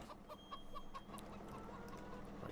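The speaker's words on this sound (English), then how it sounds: "Move out of the way, chicken." A chicken in the video game Farming Simulator 17 gives a run of short, quiet, rhythmic clucks over a steady low background hum, with no talking.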